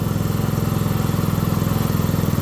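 Freshly repaired small engine idling steadily and evenly after months of failing to start, a loud rhythmic putter close by with no talk.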